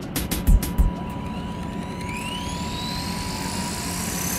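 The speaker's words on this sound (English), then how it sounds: "So let's take it on up and show you guys how this helicopter flies." A Walkera V400D02 flybarless six-channel RC helicopter spooling up outdoors after a few clicks and thumps, its motor whine rising steadily in pitch and building into a continuous buzzing drone.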